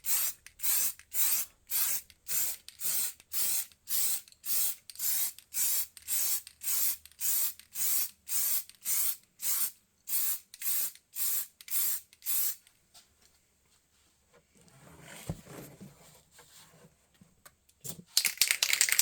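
Rapid rhythmic bursts of an aerosol spray can hiss in a steady series of short pulses onto a plastic RC car body, then stop, followed by quieter rustling and a final longer spray.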